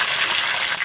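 Bay leaves and whole spices crackle in hot oil, a brief bright hiss of frying that stays loud and close throughout.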